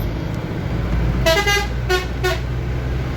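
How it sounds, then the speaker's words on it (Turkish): Three loud blasts of a heavy vehicle's air horn during a driving test course, the first longest, sounding over steady road and engine rumble. "Evet, korna çalabiliriz. Uyarmak için evet. Korna da havalı"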